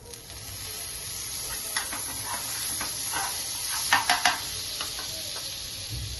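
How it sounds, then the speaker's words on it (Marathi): Butter sizzling in a hot pan while cooking frankie, a steady soft hiss with a few brief louder crackles and scraping stir sounds near the middle, close and alone without talk. "आता आपण बटर टाकूया."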